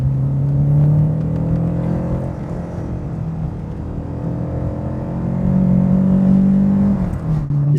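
A 1989 Renault 5 GT Turbo accelerates in second gear, its engine droning loud and steady with a tone that climbs, eases briefly mid-pull, then swells again near the end, with no voices.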